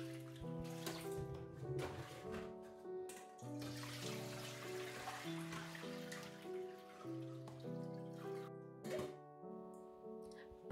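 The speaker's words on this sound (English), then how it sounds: "Rinse until the water runs clear and then drain." Water swishing and splashing in quick bursts as rice is rinsed for zongzi, heard under gentle background music.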